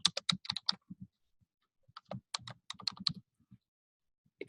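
Typing on a computer keyboard while entering code, heard as close, crisp bursts of key clicks in short irregular runs with brief pauses between them, alone in a quiet room.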